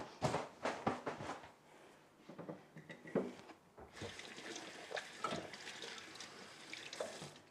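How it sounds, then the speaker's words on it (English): A kitchen tap runs as hands are washed beneath it, water splashing into the sink with uneven gushes and a brief pause before flowing again, close by with no talk. "let me wash my hands"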